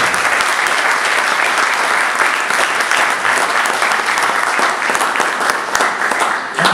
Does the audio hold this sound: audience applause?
yes